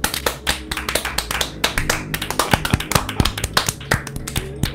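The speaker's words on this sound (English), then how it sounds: "Let's end it on the clapping." Rapid, dense clapping fills a Garry's Mod horror map, many sharp hand claps overlapping in a busy, irregular burst, loud and close with no voices.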